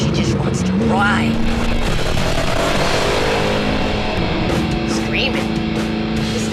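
2008 Corvette Z06 at speed on a race track, its engine howling loud and steady from inside the cabin, with gear-change pitch swoops and a constant roar beneath.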